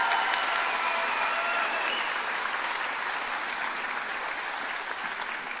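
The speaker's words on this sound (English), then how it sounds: "Let's give them another round of applause." Sustained audience applause at a 2023 health professions school commencement ceremony, steady and dense clapping from a large crowd holding at an even level throughout.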